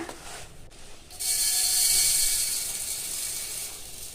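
A mixer grinder jar grinding urad dal together with another ingredient for porridge batter: a steady, loud motor whir and gritty hiss that kicks in after about a second and runs on without speech.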